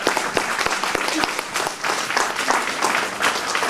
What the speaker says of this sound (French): je demande encore enfin applaudir très fort